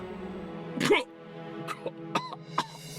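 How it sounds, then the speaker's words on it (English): A character coughs in the video game Chushingura 46+1, with one loud, harsh cough near the start followed by several shorter, quieter coughs spaced through the rest, over a low steady background hum. "Your coughs are happening too frequently now, you know?"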